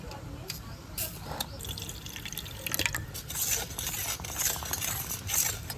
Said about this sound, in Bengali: একটা বাটিতে একটু নুন জল করে নেব